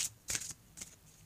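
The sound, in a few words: shuffling oracle cards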